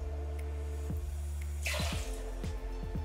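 Apple juice poured over ice in a cocktail shaker, a close splashing pour with scattered ice clinks and drips, quiet and without voices.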